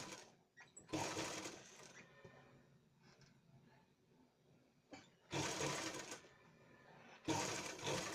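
A sewing machine stitching across lace, with several loud whirring runs broken by pauses while someone talks quietly in between.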